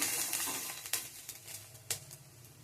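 Capsicum frying in a pan, a steady close sizzle with scattered sharp pops and a few stirring scrapes, no talk.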